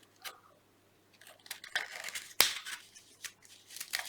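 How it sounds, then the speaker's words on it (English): Scissors snipping around the edges of material while fitting a window piece for a fire light, giving a series of close, crisp, irregular cuts with one sharp louder snip midway and quiet pauses between. "I can just gently use the end of the scissors and snip around the edges"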